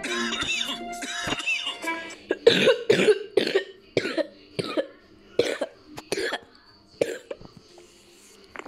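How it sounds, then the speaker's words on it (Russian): Repeated harsh coughs come in a ragged series, loud and close, with a few breathy sounds between them and a short burst of voice at the start. "Ой, я кашлю."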